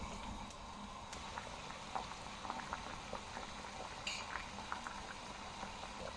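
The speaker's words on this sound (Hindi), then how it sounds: "आप इसी तरह से जो है ना चम्मच हिलाते रहेंगे ताकि ये नीचे ना लगे" Plum chutney simmers in a pot with constant soft bubbling and popping, close and fairly quiet, while a spoon stirs it with a few faint scrapes and clicks.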